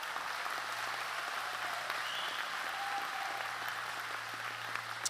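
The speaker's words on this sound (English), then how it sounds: "Please join me in thanking them with a round of applause" Sustained audience applause fills a high school graduation ceremony, a dense, steady wash of clapping from a large crowd that holds evenly for the full stretch with no voices rising above it.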